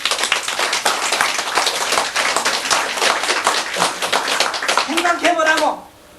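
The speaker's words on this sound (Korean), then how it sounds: "이걸 보살이라 한다. 박수!" Audience applause during a Buddhist dharma lecture on the Vimalakirti Sutra: dense, steady clapping from many hands fills about six seconds, then breaks off, leaving a brief trailing voice.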